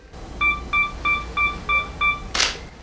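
A camera self-timer beeps six times in an even rhythm, clear and close, ending with a sharp shutter click, used for a cognac product shot in a basement.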